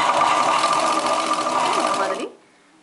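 A sewing machine runs continuously, stitching a large basting stitch on the lining cloth of a chudidar top, a steady close whirring that stops abruptly near the end.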